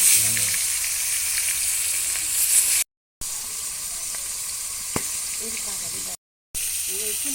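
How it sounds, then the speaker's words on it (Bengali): Pangas fish frying in fish oil in a village kitchen; a loud, continuous sizzle and hiss, close up, broken by two brief silent gaps, with faint talking and a short clink partway through. "মাছের তেল দিয়ে মাছ ভাজা"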